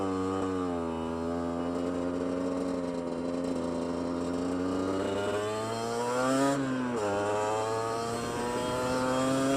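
An Aprilia MX125 motorcycle ridden around tight bends while wheelies are attempted, a steady engine note that climbs gradually, dips briefly, then pulls up again.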